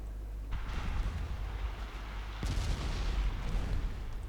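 Warship secondary guns firing at enemy transports in the naval game Ultimate Admiral: Dreadnoughts, with two heavy booming salvos, the second about two seconds after the first, each rolling into a low rumble over steady ambient drone.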